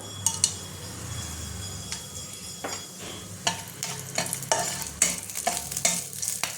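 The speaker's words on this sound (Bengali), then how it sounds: "এবার এই কড়াইয়ের মধ্যে আমি একটু তেল দিয়ে দিয়েছি। এবার আমি ফোড়নটা দেবো।" Whole spices and cardamom crackle and sizzle in hot oil in a wok, with a spoon scraping and clinking against the metal in quick irregular strokes, close by and without talk.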